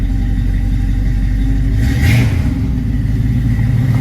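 A flood-damaged 1979 Chevrolet Camaro Z28 V8, recovered after Hurricane Ida, runs steadily close by with a deep, rumbling idle and a brief rise in revs midway.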